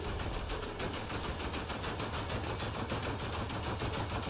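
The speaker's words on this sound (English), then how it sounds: "Small gunshots, though." Rapid small-arms gunfire rattles continuously in a dense, steady stream during a Mass Effect Andromeda multiplayer match, loud and unbroken with no voices.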